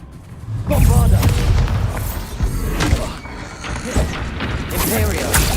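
Bombarda blasting spell exploding in the video game Hogwarts Legacy, a loud booming burst amid dense layered combat effects and other spell impacts, continuous and forceful throughout.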